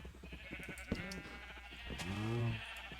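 Sheep in a blocky farming video game let out two short wavering bleats, fairly faint over a low background hum, without any talking.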